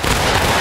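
A musket volley fired on command in the Civil War game War of Rights, heard as a loud, dense crackling roar of many shots at once that fills the whole moment without a break.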